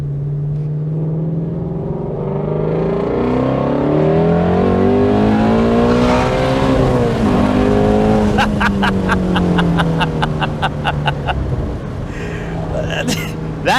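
A Shelby GT350R engine revs hard toward its 8,250 RPM red line, pitch climbing and falling in loud, close sweeps, then crackling pops on the overrun.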